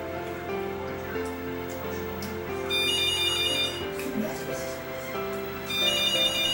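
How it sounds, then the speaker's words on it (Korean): A telephone rings with an incoming call in a home kitchen, its repeating electronic ringtone tones sounding steadily at moderate loudness over a background of busy room noise. "이 전화는 우리 어머니의 제일 친한 평생 친구 손혜 아줌마한테서 전화가 온 것입니다"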